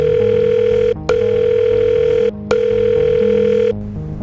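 A telephone tone sounds steady and loud while a call is being placed, held in long unbroken stretches with two brief gaps and a pitch change toward the end.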